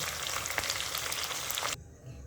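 Chicken coated in ginger and garlic fries in a pan with a close, crackling sizzle that cuts off abruptly near the end, leaving a faint hum.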